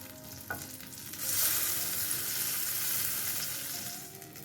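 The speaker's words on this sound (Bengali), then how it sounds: "একটা সাইড ভালো করে ভাজা হবে তারপরেই কিন্তু এটাকে উল্টাবো" Sesame fritters fry in a shallow layer of mustard oil, a steady close sizzle that swells into a dense, even hiss after a faint clink at the start and holds loud throughout.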